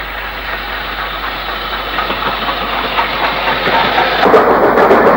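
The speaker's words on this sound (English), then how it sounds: "A Saturday lunchtime train arrives at Nunnock from Mould." A Saturday lunchtime train pulls into Nunnock station on the Mold line, arriving from Mold. Its engine gives a steady, loud rumble with a faint hiss that swells slightly near the end, and no one speaks.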